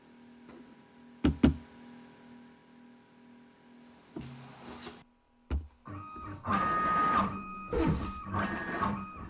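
A Longmill CNC machine runs line boring G-code, its stepper motors whirring and buzzing in short bursts with clicks and pauses, then a louder stretch of motor noise near the end.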